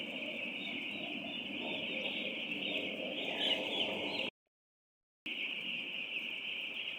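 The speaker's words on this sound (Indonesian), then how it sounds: "Ini ayam broiler umur 9 hari" Nine-day-old broiler chicks in a rearing shed make a dense, continuous chorus of high peeping and chirping, steady and fairly loud, broken by a brief dropout of silence before resuming.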